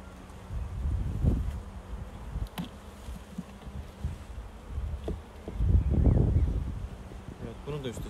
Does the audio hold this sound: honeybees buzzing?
yes